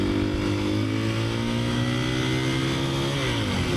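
Husqvarna FE350S motorcycle engine while riding, a steady close buzzing drone with rising and falling pitch as the throttle changes, then dropping off as it slows near the end, mixed with constant wind rush.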